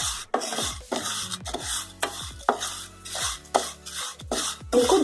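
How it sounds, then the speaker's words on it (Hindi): A spoon scrapes and rasps repeatedly against a pan as roasted vermicelli is stirred in ghee over low heat, in a steady rhythm of close, dry strokes with brief pauses between them. "इनको धीमी आंच पर ही हमें भूनना है। इनको चलाते रहें।"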